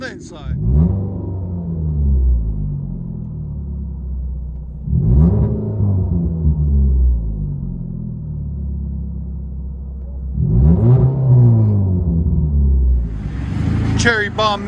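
Heard from inside the cabin, a 2016 Ford Fusion SE four-cylinder with a Cherry Bomb glass pack, muffler and resonator delete gives three revving bursts separated by a low droning idle, muffled and moderately loud.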